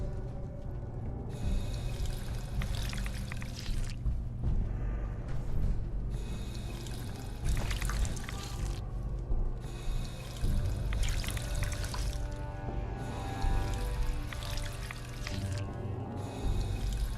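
Water runs from a tap in a steady, continuous stream, loud and close, with a few faint background sounds and no talk.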